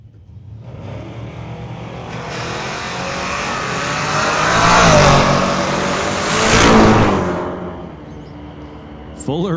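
At an old-time drag race, a 1969 Ford Falcon and a 1970 Datsun 510 launch. Engines rev hard and roar past, swelling twice as the cars pass, with a voice over the noise.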